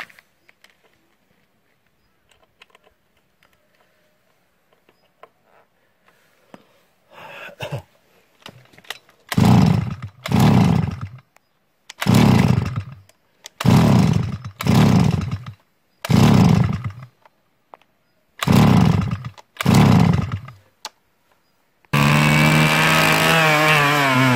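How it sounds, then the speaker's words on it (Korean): A small farm machine's engine is started to burn off the last fuel, with several pull-start attempts. It sputters and catches in a string of loud, close bursts, then settles into a steady roaring idle. "이제 요거를 마지막으로 이제 시동을 걸어서 다 태워보도록 그렇게 하겠습니다"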